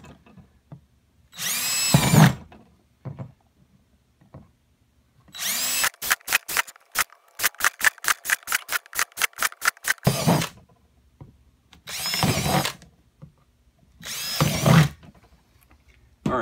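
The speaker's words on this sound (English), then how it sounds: "I need to do some holes in the corners here, just to get my jigsaw started" A power drill bores holes into the corners of a plastic storage tote, running in several separate bursts separated by silence, including a long stretch of rapid stuttering pulses, loud and close with no voices.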